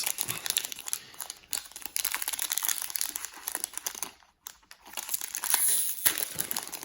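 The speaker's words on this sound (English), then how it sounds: "So here we have our Magic the Gathering Jumpstart boosters. There's 20 cards in each pack, and we're going to start opening those up." A Magic the Gathering Jumpstart booster pack torn open by hand, its foil wrapper crinkling and crackling in close, steady bursts with a brief pause near the end.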